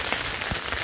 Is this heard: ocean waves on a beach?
no